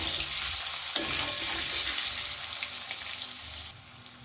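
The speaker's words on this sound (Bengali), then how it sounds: "আলুগুলোকেও কিন্তু আমি বেশ সুন্দর লাল করে ভেজে নেব" Potatoes seasoned with salt and a little turmeric fry in hot oil in a pan, a steady bright sizzle with occasional stirring scrapes, close and loud, dropping somewhat quieter near the end.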